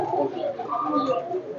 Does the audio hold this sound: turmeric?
no